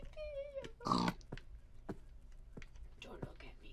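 Pig oinking in the Minecraft video game, a few short grunts near the start, followed by quiet whispered talk and soft keyboard typing.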